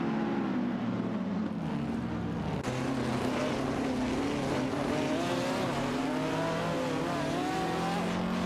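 Scarab Indycars in an AI-driven racing game, engines screaming at high revs as cars battle closely for position, pitches shifting through gears and passes, loud and continuous with no talk.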